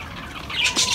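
Pigeons flap and squawk in two quick bursts close by, a flurry of wingbeats with rough, harsh calls over a low background rustle.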